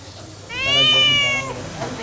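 A single clear, drawn-out cat meow rises and falls for about a second, close and loud against a quiet background.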